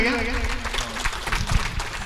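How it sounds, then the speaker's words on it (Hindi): Audience applause at a Badi Pala folk performance, rising as a dense, steady wash of clapping under a voice that speaks at the start, then continuing on its own to the end. "टिके ताली दियंतु आज्ञा"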